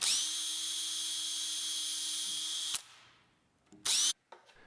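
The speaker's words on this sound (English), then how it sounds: "I start each of the 3 screw holes with a VIX bit" A power drill spins a VIX self-centering bit into screw holes on a wooden cabinet door, one steady close whine lasting almost three seconds, then a brief second burst after a pause.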